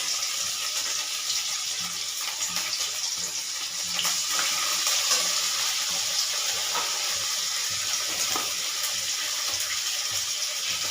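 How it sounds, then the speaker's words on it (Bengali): Spice paste of ground ginger, onion and garlic sautés in a pan, giving a steady, fairly loud sizzling hiss that runs throughout with small scraping ticks, and no talking. "মশলাটা কষতে থাকি।"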